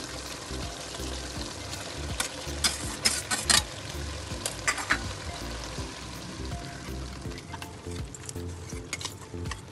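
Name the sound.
rice being added to a pot of mutton biryani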